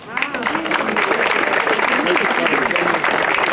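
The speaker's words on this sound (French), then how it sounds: "Vous pouvez l'applaudir quand même" Crowd applause during a Bessan festival gathering with the Remich delegation, a continuous wash of clapping with voices talking and calling over it throughout.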